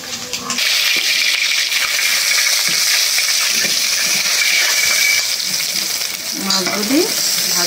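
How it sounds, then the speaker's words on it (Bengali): Fish, oily pangas-type, frying hard in a pan of oil on a stove, a loud, continuous close sizzle with spitting, splattering oil and occasional clinks. "এই যে দেখেন চুলার চারপাশে কিভাবে তেল ছিটছে"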